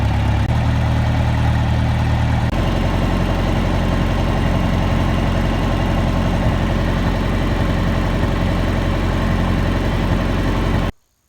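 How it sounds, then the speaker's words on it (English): A heavy engine idles steadily with a low, droning rumble, alone and fairly loud, cutting off abruptly at the end. "Let's park the tractor first."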